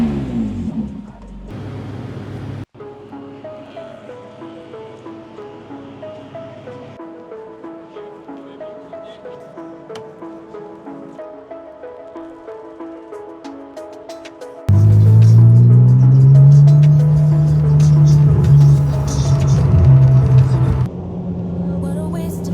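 BMW E46 with a swapped 4.10 rear gear ratio accelerating, its engine note climbing through gears with a loud, sustained rising drone toward the end, close and dominant.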